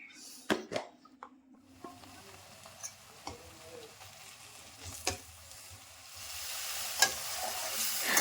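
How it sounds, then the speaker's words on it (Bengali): Chopped tomatoes fry in a pan, sizzling steadily with a spoon stirring and scraping against the pan, and occasional clinks. "টমেটোগুলিও যখন সুন্দর করে ভাজা হয়ে যাবে"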